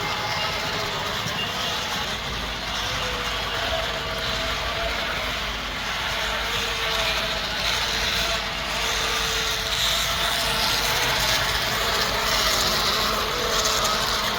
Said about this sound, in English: The louder one you hear is the Walthers train.